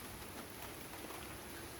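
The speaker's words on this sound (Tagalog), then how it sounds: "ayan nga guys na medyo maambon-ambon. Gawa ng papasok na bagyo" Light drizzle falls outdoors in the countryside ahead of an approaching typhoon, a faint, steady hiss of fine rain with no distinct drops or voices.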